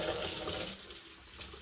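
Tap water runs steadily into a container at a farm while warm water is drawn for mixing powdered milk replacer to bottle-feed a calf, a continuous close splashing flow that softens slightly midway.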